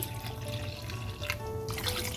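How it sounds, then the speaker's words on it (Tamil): Water pours steadily into a cooking pot holding dissolved tamarind, a continuous splashing trickle close by, with no voices. "இப்போ இந்த புளி கரைச்ச பாத்திரத்திலேயே தண்ணி ஊற்றி"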